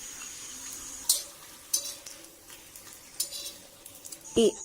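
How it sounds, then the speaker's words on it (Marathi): Papad frying in a pan crackles softly over a low background hiss, broken by a few distinct sharp pops and clinks spaced about a second apart, ending with a louder metallic knock. "इथे आता पापड फ्राय करून घेते"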